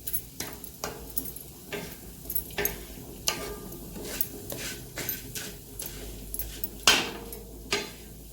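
Urad dal dry-roasting in an iron tawa, with repeated sharp scraping and clinking strokes of a spatula stirring the lentils at a steady, uneven rhythm, close and fairly loud, with one brighter metallic scrape near the end.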